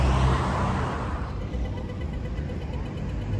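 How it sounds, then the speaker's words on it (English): Road traffic on a street in Perth, Western Australia: a steady rumble of passing cars with engine noise swelling and easing, continuous and moderately near, with no talking. "Traffic in Perth."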